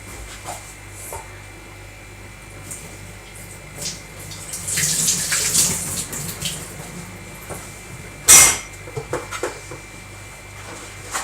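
A household tap runs water over hands being wetted before cooking, a soft steady flow with a brighter splash burst partway through, close by, with faint background room noise.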